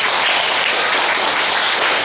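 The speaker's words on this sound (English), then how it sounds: "Applaud!" Convention panel audience breaking into applause, a dense, loud, steady wash of many hands clapping with no gaps.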